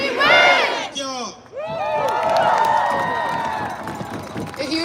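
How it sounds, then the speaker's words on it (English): A large crowd at an outdoor rally roars and cheers loudly and continuously, with shouting voices rising and falling and some clapping mixed in close by. "A huge round of applause."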